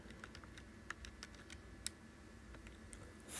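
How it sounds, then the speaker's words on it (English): Fingers tapping keys on a calculator to enter numbers: light, quick clicks in an uneven run, faint and close, with no speech. "just typing it into my calculator"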